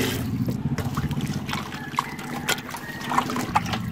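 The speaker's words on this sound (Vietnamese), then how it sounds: "xả nước vừa ngập với cái bắp giò" Tap water runs into a bowl holding a pork leg and a spoonful of salt for washing, a close, steady trickle with small splashes and no talk.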